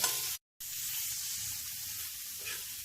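Stuffed achari karela with masala and minced meat sautéing in hot oil, giving a steady close sizzle and crackle that cuts out briefly near the start, then continues evenly.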